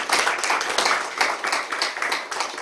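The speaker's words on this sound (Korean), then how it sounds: "뒤에 계시면 박수 한번 보내주십시오." A small audience clapping at a lecture hosted by a Seoul city council inter-Korean peace exchange research group, brief and uneven, close, with no voices.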